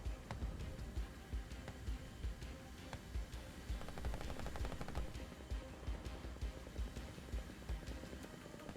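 An enemy tank fires repeatedly at the player's King Tiger in War Thunder, a dense run of sharp gunshot bursts over a rumbling battle bed, loud and continuous for the whole stretch.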